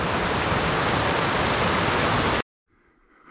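Lively mountain creek water rushing in a dense, steady roar close by along a bush track near Greytown, cutting off abruptly to near silence, then a faint rustle.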